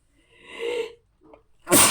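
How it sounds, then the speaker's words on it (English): A single close sneeze bursts out sharply at the end, preceded by a drawn-in breath and a small catch, in a quiet indoor room. "Now I'm gonna sneeze."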